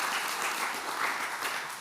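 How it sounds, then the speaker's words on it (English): Audience at a conference keynote breaks into a short, steady burst of applause, a dense wash of many hands clapping close and fairly loud with no speech over it. "Pause for applause."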